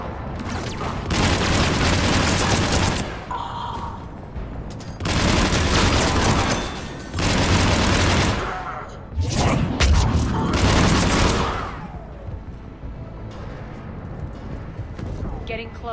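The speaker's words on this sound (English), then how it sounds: "Those cannons have to be stopped." Heavy cannons in the Mass Effect 3 Retake Omega mission let loose four loud, rumbling volleys, each lasting about two seconds, separated by quieter stretches of background.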